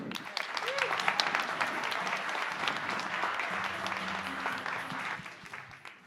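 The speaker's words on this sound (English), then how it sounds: "please put your hands together for Hien Lam" Audience applause welcoming a speaker onto the stage at a business talk, a steady broad clapping wash from a crowd that holds for the full stretch and thins slightly at the end, with faint voices underneath.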